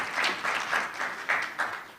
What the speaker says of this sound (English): Please, a warm round of applause to Mukelani Dimba there